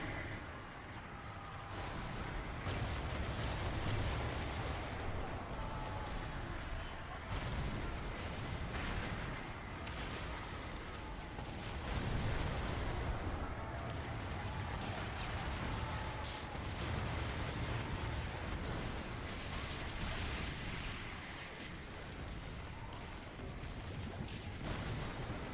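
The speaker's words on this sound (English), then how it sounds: "Let's get some secondary explosions going on around here if we can." Ship combat in Skull and Bones: a dense, continuous barrage of cannon fire and explosions rumbling and booming without pause, loud and close, with layered heavy blasts throughout.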